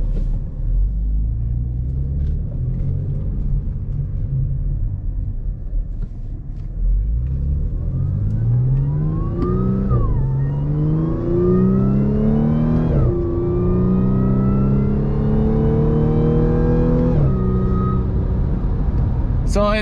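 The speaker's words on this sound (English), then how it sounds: "listen to that supercharger" A supercharged 2014 Audi S5 B8.5 engine on stock exhaust revs up through several rising pulls, with a steady rumble building into a climbing whine, loud and close with no talking.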